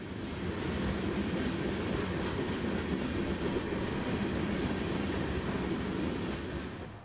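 CSX 1871, a freight train hauling Tropicana juice cars, rolls past in a steady, continuous rumble of wheels on rails, close and loud for the whole stretch with no pauses and no voices.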